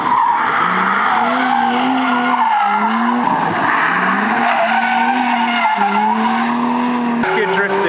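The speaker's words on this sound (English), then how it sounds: "Bit of F-type drifting." A Jaguar F-Type drifts at the Goodwood Festival of Speed 2019, its tires squealing in long, repeated wavering screeches over a loud engine.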